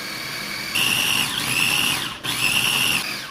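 A Cuisinart food processor chops corn in two loud whirring pulses, each starting with a rising whine and cutting off sharply, the second following a brief gap.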